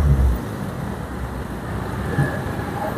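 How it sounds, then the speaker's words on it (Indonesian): Steady roar of dense road traffic on a main street in Sungguminasa, Gowa, a continuous close wash of passing vehicles with no distinct individual events. "Kendaraan cukup padat menuju ke arah Bangkalan"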